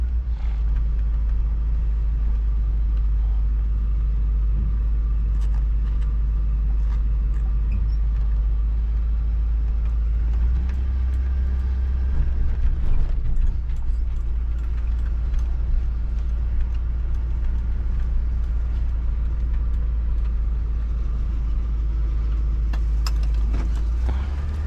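The engine of a 1976 GMC motorhome idles during refueling, giving a deep, steady rumble that stays constant and close for the whole stretch with only small fluctuations.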